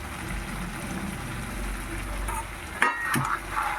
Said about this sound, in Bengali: চিকেনগুলো এবার ভালো করে কষে নেবো